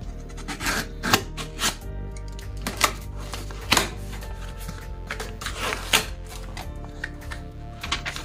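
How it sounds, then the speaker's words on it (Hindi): Cardboard packaging of a Jio Phone Prima 4G feature phone being cut and opened, with scattered sharp scraping, tearing and rustling clicks close by, no talking. "तो हम फटाफट इस बॉक्स को ओपन कर लेते हैं"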